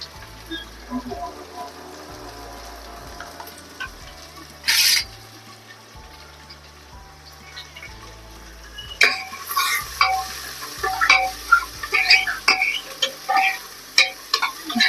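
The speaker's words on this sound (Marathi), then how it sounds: "कांदा चांगला भाजून घेऊया।" Two chopped onions with cumin frying and stirred in a pan, a steady close sizzle broken by scraping stir strokes and sharper clatter over the final seconds.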